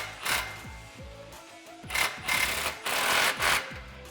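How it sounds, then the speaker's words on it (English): A 15 mm socket tightens a muffler clamp on a 2009-2018 RAM 1500 5.7L exhaust, giving quick repeated ratcheting clicks in short bursts and faint scraping up close. "so I'm gonna use my 15 socket to tighten this down."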